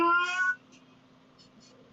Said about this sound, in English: You got a cat?